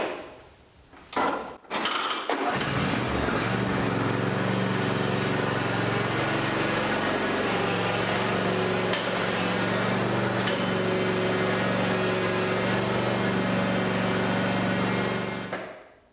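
A lawn tractor with mowing deck climbing loading ramps into a pickup truck: a clunk and thumps of the ramp at the start, then a steady, loud engine drone that holds for over ten seconds before cutting off.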